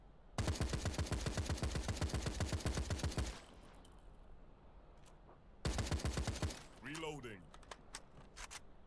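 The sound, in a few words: assault rifle gunfire in the video game Citizen Conflict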